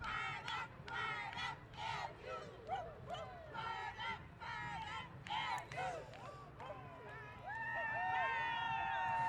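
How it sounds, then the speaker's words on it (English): Lincoln University of Missouri alumni cheer at a centennial homecoming parade, rhythmic chanting and shouted calls from a crowd outdoors, with a dog barking and horns honking nearby. "Well, we got the Lincoln alumni cheer. Alumni cheer, and they are fired up."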